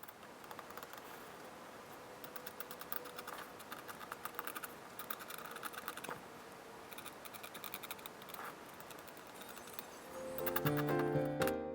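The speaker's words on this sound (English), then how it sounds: "now I'm going to use my X-Acto knife trick and scratch out highlights." An X-Acto knife scratches out highlights on watercolor paper, a dense run of quick, dry scraping strokes close up, ending in a brief louder rustle.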